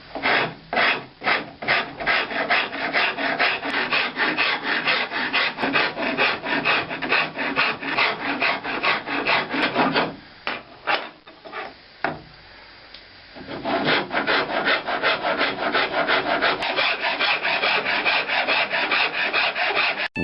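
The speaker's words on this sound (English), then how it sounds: "I am sanding this neck now to get rid of all the scratches" A wooden SG-style guitar neck is sanded to remove scratches, a steady rhythmic rasp of back-and-forth strokes, close and prominent, pausing briefly midway before resuming.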